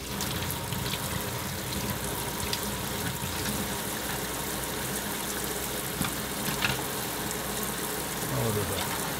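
Water gushes and splashes steadily from the outlet port of a Laguna PowerJet 600 pond pump being cleaned, a continuous rushing wash with faint scrubbing clicks throughout.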